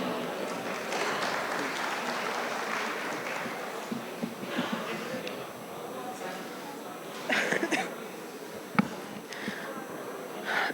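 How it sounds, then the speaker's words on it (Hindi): Audience applause fills a hijama symposium hall at the PC Hotel in Lahore, a steady wash of many hands clapping for nearly eleven seconds while voices and a cough or two break through. "आपकी तालियां रुकनी नहीं चाहिए।"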